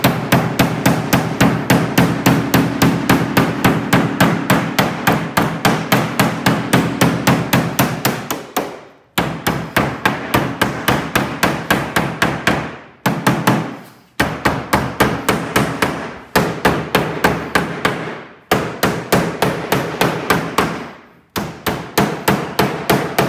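A hand hammer strikes metal in rapid, steady blows, shaping an edge near a bead roll, in several long bursts separated by brief pauses, loud and close.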